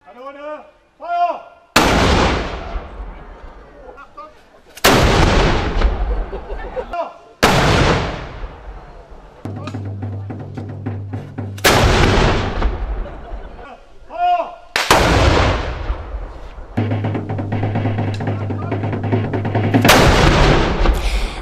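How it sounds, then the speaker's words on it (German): Cannon shots fired at a castle reenactment of the year 1815, a series of loud, booming blasts spaced a few seconds apart, each trailing off in a long rumbling echo with crowd noise between. "Sechs Kanonenschüsse kündigten den Start der Festungsspiele an."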